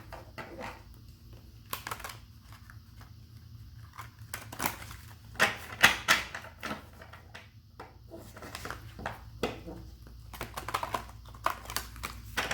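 Quick papery riffling and crisp card clicks from shuffling a large, stiff tarot deck repeat in bursts, close and fairly soft, with no talking.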